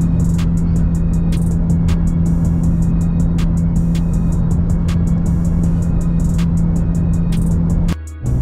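Car with a Ripp-supercharged Mopar 3.6 engine cruising on cruise control in eighth gear, a steady low drone close up with a constant hum and faint ticks, running alone until it cuts off near the end.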